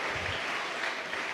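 Church congregation clapping during a sermon, a steady dense wash of applause at moderate level, brief and unbroken.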